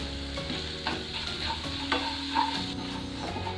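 A sliced green chilli with garam masala and Kashmiri red chilli powder hits hot oil as a tempering, sizzling and crackling steadily under a few stirring scrapes and clinks.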